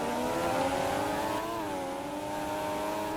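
Formula One race car engines at the French Grand Prix scream at high pitch with steady, loud, sustained harmonic whine, a slight pitch dip midway as cars pass through a corner.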